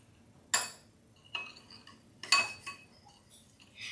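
A utensil stirs brown sugar in a bowl for cinnamon rolls, giving a few separate clinks and scrapes against the bowl, fairly close and quiet, with near-silent pauses between strokes.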